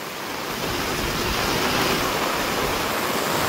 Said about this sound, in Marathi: आवाज पावसाचा एकदम खतरनाक पाऊस पडतोय।